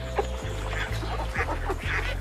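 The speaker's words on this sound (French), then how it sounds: "Entrée en scène des rois de la parade, les canards colverts." Mallard ducks quack in a forest setting, several nasal calls overlapping in close, repeated bursts over a low steady hum.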